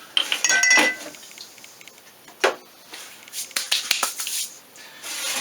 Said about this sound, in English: Alright, egg scrambled.